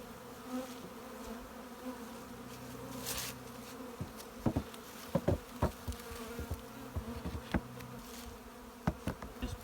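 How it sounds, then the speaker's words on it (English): Honey bees buzz around a newly established hive, a soft steady drone with individual bees zipping close to the microphone in brief louder passes, heard alone without talk. "allow the rest of the bees to find their way into the hive"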